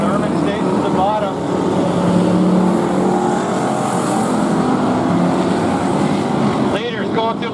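Pure stock cars racing at Barona Speedway, with several engines roaring and droning steadily as the leaders work through lapped traffic. A dense, loud wall of engine noise continues throughout, with an announcer talking over it.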